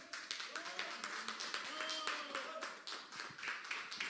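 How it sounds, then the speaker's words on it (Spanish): Audience clapping and applause at a live radio broadcast of classic music, steady and fairly close, with a voice singing or talking underneath throughout. "El aplauso fuerte, por favor, gente."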